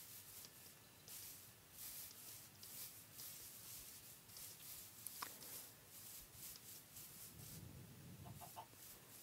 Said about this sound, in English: Lots of chickens, wow.